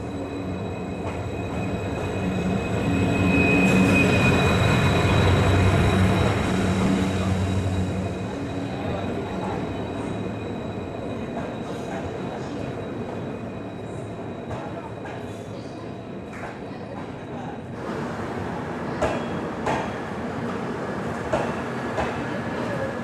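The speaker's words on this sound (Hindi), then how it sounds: "हमारी कोच जो है वो थोड़ी पीछे आके रुकी है" An Indian Railways passenger train, the Jhalawar City–Shri Ganganagar express, rumbles into a station and comes to a stop, with a loud swell of rolling wheels and rail clatter early on, easing into a steady platform hum and some distant voices.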